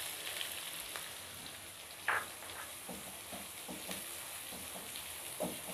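Sliced large onions frying with cumin in hot oil, a continuous dense crackling sizzle with occasional light stirring scrapes and a couple of brief louder clacks.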